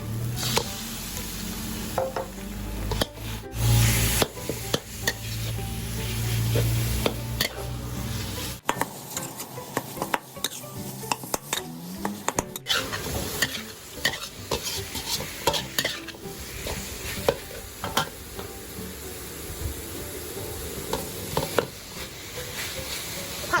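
Minced pork stir-fried in a pan with pounded shallots, with steady sizzling and frequent scraping and clanking of a spatula against the pan, close and fairly quiet, for a Thai sago dumpling filling.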